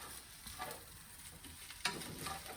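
Fried rice with egg and onions sizzles steadily in a pan, a soft continuous crackle and hiss with occasional louder pops and stirring scrapes, close and fairly quiet.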